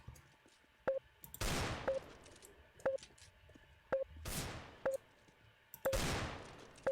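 In-game gunfire in a CS:GO Jailbreak round: three loud, decaying gunshot blasts, with sharp periodic clicks and short electronic pips between them.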